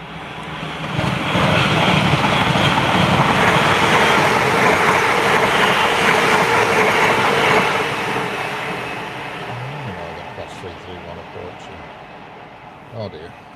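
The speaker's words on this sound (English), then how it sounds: "There's a Transpennine Express." A TransPennine Express train rushes past as a broad, loud roar that fills most of the clip and then fades away, with faint voices near the end.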